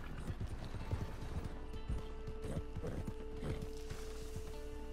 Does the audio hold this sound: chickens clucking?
no